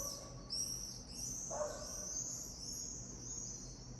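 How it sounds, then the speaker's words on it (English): Birds call outside at night in Ukraine, a steady run of high chirps over a constant hiss of insects, with one brief lower call in the middle and nobody talking. "the birds are certainly going crazy out there"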